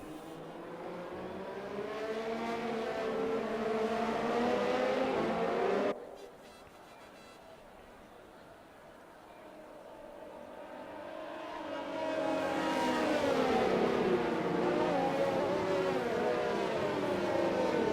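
Race car engines from a racing league video game at the Mexico round drone and whine steadily, fading as the cars pass away before swelling loud again as another pack roars through.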